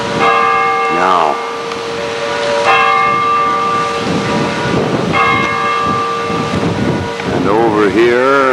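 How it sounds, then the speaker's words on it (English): Church bells chiming noon in a Dutch town, ringing strikes with long sustained metallic tones that overlap and decay, heard loud over gusty wind noise outdoors. "I just wanted to get the chimes of the church in."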